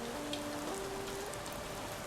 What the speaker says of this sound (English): I love the rain noises.